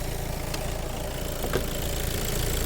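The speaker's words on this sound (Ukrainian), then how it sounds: "двигун працює чудово, заводиться на холодну і на гарячу ідеально" A 2017 Volkswagen Tiguan's 2.0 TDI diesel engine idles nearby in a constant, even rumble, with a couple of faint clicks over the steady drone and no talk.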